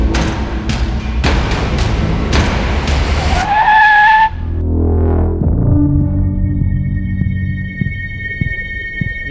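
A car drives and skids with sharp tire squeals and bursts of noise, followed by a long screeching slide that dies away into a low engine rumble and faint tonal hum.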